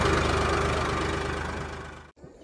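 Tractor with a hitched trolley on farmland, its engine running steadily at close range with a low, throbbing idle that holds for about two seconds before cutting off abruptly.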